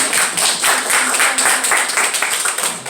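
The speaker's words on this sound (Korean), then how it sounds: "박수 한번 하겠습니다." Steady applause from a seated audience of alumni at a church gathering, many hands clapping continuously for a few seconds without a break.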